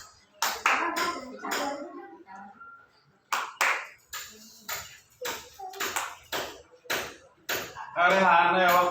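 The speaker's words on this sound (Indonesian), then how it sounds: "Ayo tepuk tangan buat Rehan," Scattered clapping breaks out among a group, with separate claps and short bursts interrupted by gaps and speaking voices, swelling into a fuller round of clapping at the very end.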